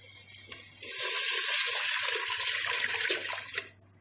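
Three and a half cups of water are poured into a cooking pot for rice in a home kitchen, a continuous splashing, hissing gush lasting a few seconds that swells and then tapers off, with no talking.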